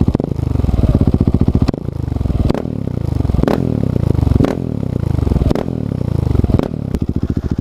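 A 701 motorcycle fitted with an Akrapovič exhaust and its dB killer removed revs hard and close. It gives about six throaty, crackling rev bursts with sharp drops between them, loud and alone.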